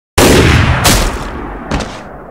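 Gunshots in a Mario meme video: a loud blast with a sharp onset, a second burst about 0.7 s later and a weaker third shot near the end, with no talking.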